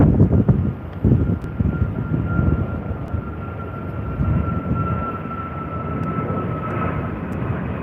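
An airliner jet departs the airport, a loud continuous engine roar with a sustained whine that holds steady for the whole stretch, heard alone with no talk.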